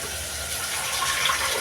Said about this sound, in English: So let me add a little bit of water